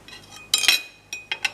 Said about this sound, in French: je repose mes ustensiles, mes couteaux sur l'assiette